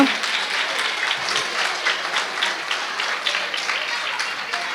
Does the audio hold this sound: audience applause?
yes